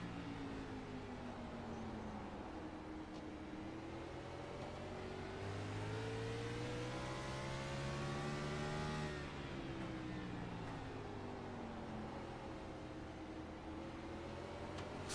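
Gen 6 race car engine heard onboard at Martinsville, a sustained loud drone that climbs and falls in pitch as the driver accelerates and lifts through the corners, with no talk.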